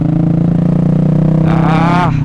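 A motorcycle fitted with a Pro Liner exhaust, a one-of-a-kind bike in Bangladesh, throbs loud and close in a steady pulsing drone, its pitch climbing briefly toward the end before settling.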